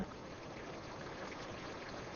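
Continuous flowing water from a Minecraft video game, a steady trickling stream at moderate level running throughout without any voices.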